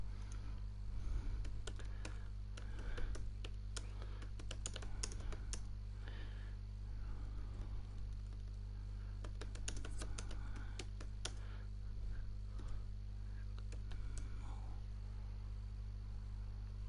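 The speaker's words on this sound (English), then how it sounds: "If I'm typing, I want to be pausing." Computer keyboard typing during a FIFA 17 football match session, heard as scattered bursts of clicks over a steady hum of game sound, fairly faint and irregular, with no talk.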